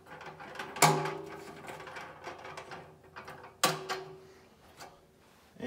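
Legs on a Keene A52 sluice being tightened down to height: close metallic clicking and ratcheting mechanism noises, with two sharper clunks standing out from the steady fiddling.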